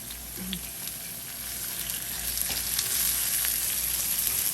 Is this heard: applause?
no